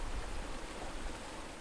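Rain falls steadily in a village in Garut, West Java, Indonesia, making a dense, even hiss with no pauses and no voices over it.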